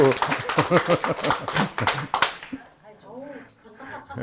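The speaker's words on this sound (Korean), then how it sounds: "자, 우리 서로에게 박수." An audience at a Korean lecture camp breaks into a dense burst of clapping for a couple of seconds, mixed with a voice, then the room falls quieter as he keeps talking.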